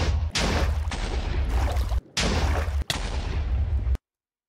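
TNT blasts in a block-building video game, a loud sustained roar of rumbling explosions in three long bursts broken by short gaps, ending in abrupt silence.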